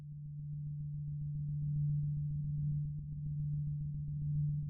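An Omnisphere synth patch through a low-pass filter gives a grainy soundbed: a low sustained tone with soft pulsing texture, dull and muffled with no upper edge, steady and quiet throughout.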